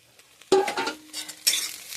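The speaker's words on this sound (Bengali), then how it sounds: "এবার এই চিংড়ি মাছ কটা দিয়ে দেবো," Prawns stir-frying in a pan with spices, potato and pointed gourd: a sudden loud burst of sizzling with a spatula clink and scrape, then a second burst, close and without talk.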